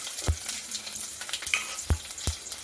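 Chopped garlic cloves and curry leaves sizzle steadily in hot oil with popped mustard and cumin seeds for dahi tikhari, with a few soft clunks of stirring.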